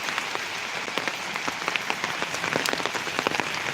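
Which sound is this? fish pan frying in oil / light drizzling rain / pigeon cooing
light drizzling rain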